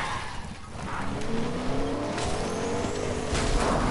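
A truck driven in a video game, its engine revving steadily with tire and skid noises layered on top, loud and continuous, while players chat faintly in the background.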